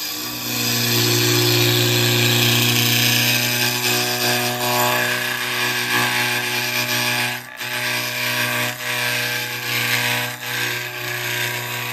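A standard round carbide tool cuts wood on a turning lathe, producing a loud, continuous whirring hum with a scraping, tearing texture, briefly dipping and wavering as the cut shifts.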